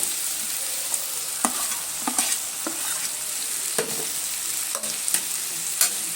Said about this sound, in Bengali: এইভাবে আলুর সঙ্গে এইভাবে একটু হালকা হাতে নেড়ে চলে নিচ্ছি প্রায় মিনিট মিনিট সময় নিয়ে এইভাবে ভেজে নেব